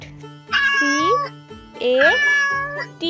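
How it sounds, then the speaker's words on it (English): A cat meows twice in a row, each call rising and then falling with a drawn-out, whiny tone. Both meows are close, clear and loud, separated by a short pause, with a soft voice heard faintly between them. "Cat."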